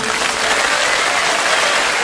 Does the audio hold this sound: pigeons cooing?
no